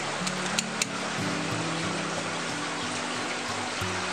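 A small waterfall in an aquaterrarium tank trickles with a soft, continuous hiss of falling water close by, while a low pump hum runs underneath and a few faint taps occur near the start.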